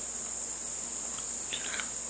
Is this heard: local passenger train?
no